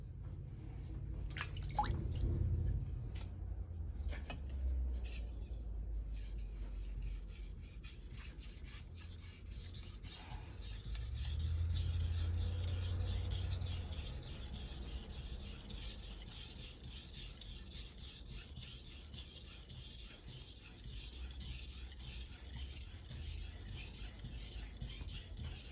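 A knife is drawn across a wet Naniwa 1000/3000 grit combination whetstone in repeated rasping, scraping strokes, fairly quiet and close, with small wet drips between passes.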